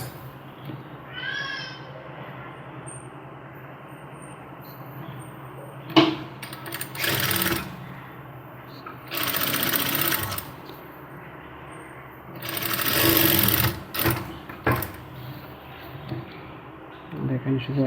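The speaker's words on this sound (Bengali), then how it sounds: "আমি শুধু একটা সেলাইই দিচ্ছি" A sewing machine stitches a kurti in short, separate bursts of rapid mechanical whirring, with quiet pauses between runs and a faint cat-like cry early on.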